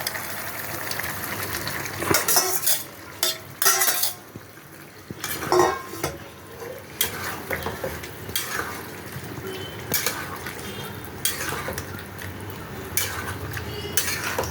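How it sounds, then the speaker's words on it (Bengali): Fried young jackfruit is tipped into simmering coconut milk gravy in a pot, with a run of metallic clanks and scrapes of a utensil against the pan over a low bubbling sizzle, near and without speech. "এখন আমি এঁচোড় যেটা ভেজে রেখেছিলাম এর মধ্যে ঢেলে দিচ্ছি"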